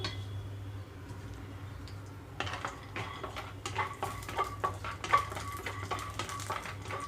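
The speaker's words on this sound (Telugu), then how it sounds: "పల్లీలు అలాగే పచ్చిమిరపకాయలు ముందుగా వేయించుకుంటున్నానండి" Peanuts and green chillies frying in oil in a pan: a low steady hum, then stirring clinks and scrapes with a soft sizzle, moderately quiet and close.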